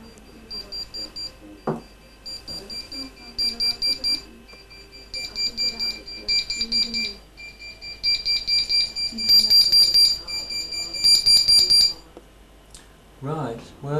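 Rapid electronic beeps in repeated clusters come from a small Philips pager nearby, with voices talking intermittently around them.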